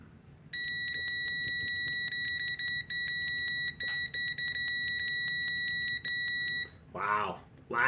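A WinAPEX ET8103 multimeter's continuity beeper sounds a steady high-pitched tone for about six seconds with brief dropouts, close and loud, then a person starts talking.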